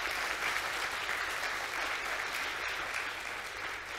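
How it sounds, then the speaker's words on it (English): Sustained applause from a conference audience at a forum panel session, a dense, steady wash of clapping filling the room for the whole stretch with no talk over it. "can we just have a round of applause for a fantastic panel?"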